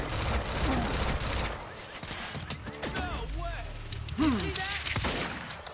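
Shotgun blasts and surrounding gunfire in Quantum Break, a chaotic run of sharp shots with clattering mechanisms and whistling effects, loud and dense, with brief voices mixed in.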